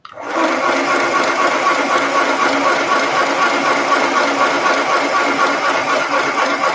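A sewing machine stitches through denim in one steady, continuous mechanical whir. It runs close and fairly loud with no pauses and no talking.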